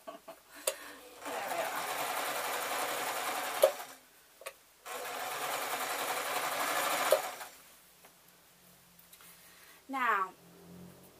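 A sewing machine stitches a seam on a hedgehog tote bag in two steady runs separated by a pause, close and clear, followed by a short voice and a brief clatter.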